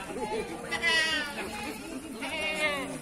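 Goats bleat repeatedly at a busy Indonesian livestock market, with several wavering calls rising over a steady background of voices and crowd chatter.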